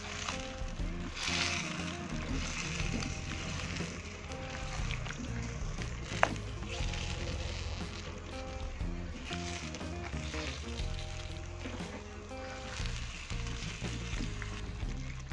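Shrimp and corn sizzling in a frying pan while being stirred, a steady crackling fry with soft scraping and clinking of the utensil throughout, close by, with background music.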